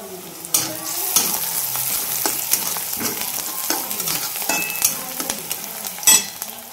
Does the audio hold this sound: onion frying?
yes